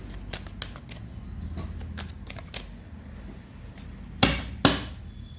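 Tarot cards drawn one at a time from a deck, soft papery slides and taps at an irregular pace, ending in two sharper snaps of a card set down.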